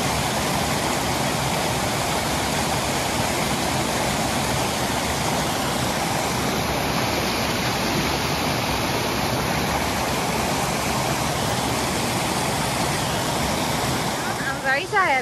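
Steady, dense roar of rushing water from the Argyle Waterfall in Tobago filling the whole clip, loud and continuous, with no break in the flow.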